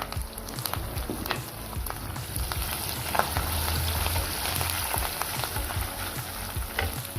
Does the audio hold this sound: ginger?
yes